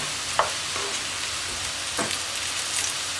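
Onions salted with two teaspoons of salt soften in a pan with peppers, giving a steady close sizzle and a few scraping stirs, with no talking.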